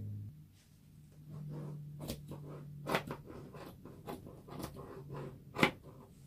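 Scissors snipping through fabric cut to size for a vintage-themed DIY notice board, a quiet series of close, irregular crisp cuts and rustles with a low hum at times.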